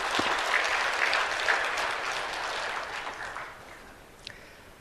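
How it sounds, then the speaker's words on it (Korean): A church congregation applauds, a thick burst of clapping that starts strong and gradually fades toward the end. "하나님께 영광의 박수 드리겠습니다."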